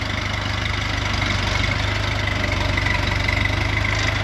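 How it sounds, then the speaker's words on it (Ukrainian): A Jinma 404 four-cylinder four-wheel-drive mini tractor engine idles close by with a steady, rhythmic low chug that never changes pace. "Відвантажуємо клієнту джинму 404, 4-циліндровий повнеприводний трактор"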